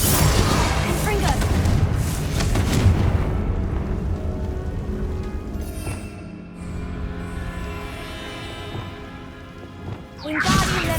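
A Confringo blasting spell explodes in Hogwarts Legacy, a loud, broad booming rumble that fills the opening seconds and then trails off into a softer rolling tail before another burst near the end.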